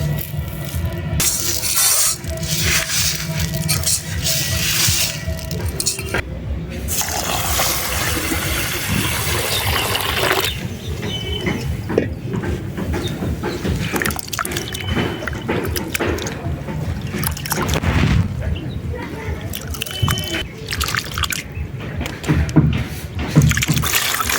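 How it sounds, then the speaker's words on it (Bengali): Broken rice grains are swished and rinsed in a pot of water, with continuous sloshing, splashing and pouring close by, and a few faint rattles of grains against the pot. "এবার এটা একটা পাত্রে নিয়ে দু তিনবার ভালো করে ধুয়ে নেবো"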